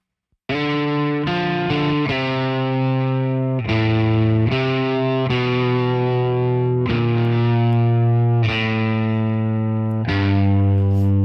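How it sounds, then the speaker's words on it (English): Thick, heavily distorted electric guitar part from a song, sustained chords changing every second or so with chorus-like effects, loud and continuous, no talking. "But there is some electric guitar."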